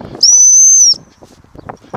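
A loud, sustained single blast of a gundog training stop whistle lasting under a second, blown outdoors during a retrieving session, followed by scattered faint voices and handling noise.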